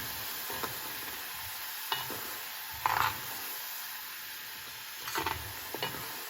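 Onion paste frying in oil for tomato pachadi, a steady soft sizzle with occasional clinks and scrapes of stirring, close by and fairly quiet with no talk.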